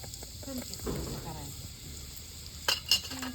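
Cumin seeds hit hot oil and crackle with a soft, steady frying hiss, close by and fairly quiet, with a few sharper pops near the end.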